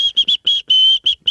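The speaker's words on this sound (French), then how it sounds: "Mais tu siffles quand même bien" A person whistles a bright tune in short bursts and one longer held note, loud and close, with brief pauses between phrases and no talk.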